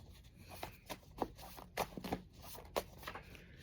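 A deck of tarot cards is shuffled by hand nearby, giving a series of quick, crisp riffling bursts at an irregular rhythm, with a quiet room behind and no talk.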